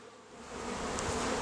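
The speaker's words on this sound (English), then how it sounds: "you can see right there, a whole cluster of bees right on the top of the box" Honeybees from an overwintered colony, clustered on top of a hive box during a spring check, make a steady, dense hum. It swells slightly louder partway through and carries on with no voices over it.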